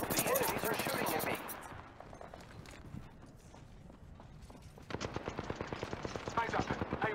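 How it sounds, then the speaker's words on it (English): Automatic gunfire from enemies in the shooter game Apex Legends, rattling out in dense rapid bursts near the start and again toward the end, with a quieter stretch between. "I am taking fire."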